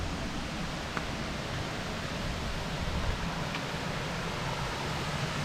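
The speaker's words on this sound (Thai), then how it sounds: "น้ำตกเลย นี่ครับ" A waterfall below a cliff roars as a steady, unbroken wash of rushing water, even in level throughout.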